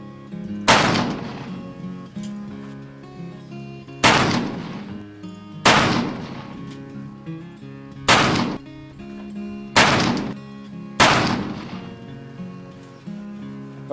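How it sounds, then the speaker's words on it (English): Six sharp, booming shots from a Pietta black powder revolver firing round balls, spaced roughly every one to two seconds, each a loud close blast with a ringing decay. "we're going to load this thing up and shoot some round ball with it"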